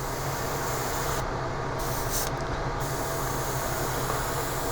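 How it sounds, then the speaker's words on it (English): Airbrush spraying silver paint at low pressure onto aluminum trailing arms of a Tamiya 1/24 Porsche 934 model, a steady close broadband hiss that holds constant with no talking. "you can hear it in the airbrush how much less paint I'm spraying out"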